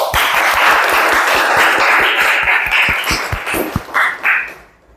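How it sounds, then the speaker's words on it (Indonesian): A class of students claps for a classmate who answered a question, a dense burst of applause that is loud at first and then thins out, with a few separate claps near the end. "kita beri tepuk tangan kepada Aldi yang bersedia menjawab"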